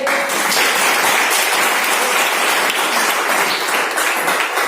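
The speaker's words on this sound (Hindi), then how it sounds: "एक जोरदार ताली होना चाहिए।" Loud, vigorous applause from a large seated audience at a business seminar, dense continuous clapping that holds steady throughout.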